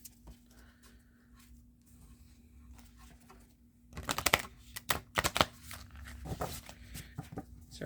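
Hexagon-shaped tarot cards are shuffled in quick bursts of crisp, clattering riffles and taps, close and fairly quiet, after a calm near-silent stretch.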